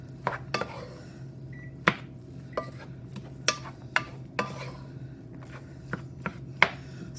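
Ground beef being broken up in a pot with a utensil, sharp knocks and clacks against the pot landing at irregular intervals over a low steady hum and a faint sizzle.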